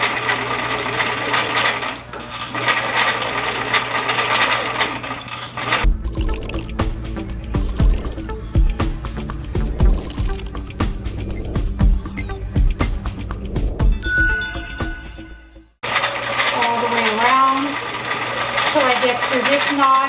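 A sewing machine hums steadily while stitching around a sleeve cap. It runs close and loud at the start and again at the end. Between those runs comes a quieter stretch of handling clicks and rustles.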